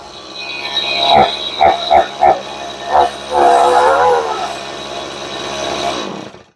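A chainsaw engine idling and warming up indoors, loud and close, with a few sharp throttle blips and then a steady running drone before it cuts off.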